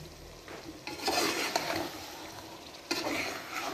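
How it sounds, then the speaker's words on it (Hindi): A spoon stirs aloo gobi with ground cumin in a pan, scraping close and steadily over a light sizzle, with two sharp clinks of metal against the pan. "अब हम जो है वो इसको मिक्स कर लेंगे स्पून के साथ।"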